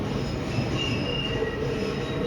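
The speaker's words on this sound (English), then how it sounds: "There's another Western Line train." An Auckland AM class electric train running under 25 kV AC overhead wires sends out a steady, loud squeal from its wheels, with continuous rumbling rail noise beneath it throughout.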